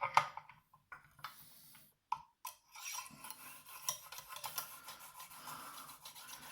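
Knife edge scraping over a 1000 grit Lansky sharpening stone, a quiet, smooth rubbing with repeated strokes and short pauses, close up.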